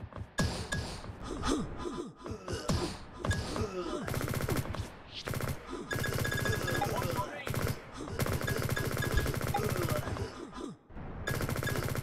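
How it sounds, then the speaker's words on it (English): SMG fire in Liblast, an open-source online first-person shooter made with Godot 4, heard as loud rapid automatic bursts separated by short gaps, with some breathing and voice sounds mixed in. "I find the SMG pretty fun to shoot."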